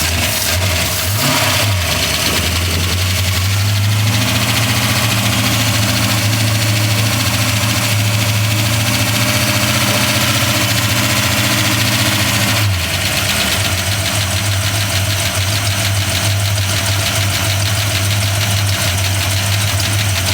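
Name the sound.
rebuilt car engine running with throttle worked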